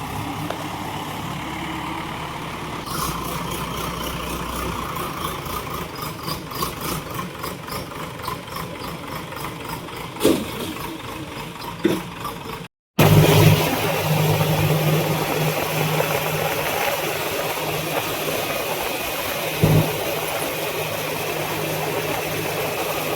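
A heavy tractor engine chugs steadily at idle nearby, with a brief dropout partway through before it carries on rumbling.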